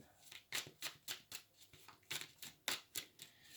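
Rapid riffle-shuffling of tarot cards, about a dozen crisp papery bursts in an uneven rhythm, close and fairly quiet.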